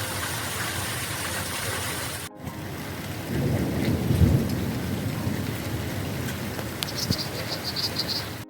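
Heavy rain pours down steadily after a hailstorm on a permaculture plot, a dense wash of drops rising and swelling midway, with a soft low rumble underneath and no talking.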